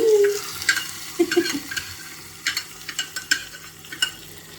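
Tempering spices crackle and sizzle in hot oil on a gas stove while a chicken curry is being cooked, with sharp spitting pops and stirring scrapes in irregular bursts, close and fairly loud, with no talking.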